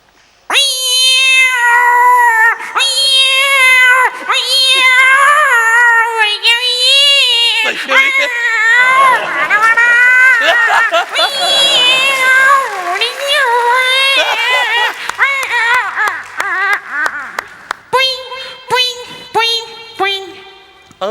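A comedy stage performer imitates a cat meowing in labour pain, drawn-out wailing meows that rise and fall continuously and loudly for about twenty seconds, strained and whining, with no other voices.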